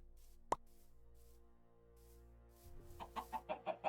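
Chicken in modded Minecraft, a series of short rhythmic clucks near the end following a single sharp pop, over a steady low background hum.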